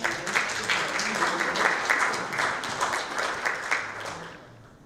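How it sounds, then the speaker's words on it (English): An audience at a panel event applauds steadily, dense clapping holding for several seconds before thinning and fading out. "Please give it a big round of applause."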